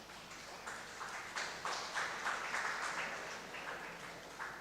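An audience at a lecture breaks into sustained applause, a dense wash of many hands clapping at moderate distance that holds steady for several seconds, without talk.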